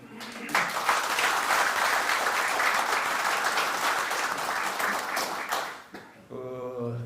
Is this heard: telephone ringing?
no